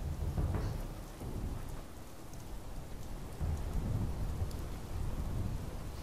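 Steady heavy rain and rolling thunder from a storm in the video game Fallout 76, loud and continuous with deeper rumbles swelling near the start and again in the second half, no talking.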